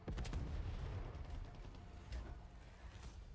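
Supremo backpack weapon in Far Cry 6 fires off a rumbling volley of booms and blasts, dense and heavy at first and then easing into lower, rolling explosions, with no talk.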